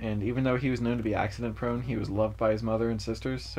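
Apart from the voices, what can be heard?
No everyday noises stand out.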